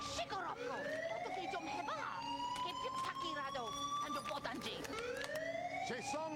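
A wailing siren rises and falls steadily for several seconds, loud and fairly close, with voices talking underneath.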